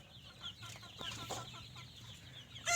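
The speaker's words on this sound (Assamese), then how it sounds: "মুৰ্গী আছে ইয়াত, দেখিছেনে, মুৰ্গী" Chickens on a small farm clucking softly at a little distance, a few short murmuring clucks, then a sharper, louder squawk right at the end.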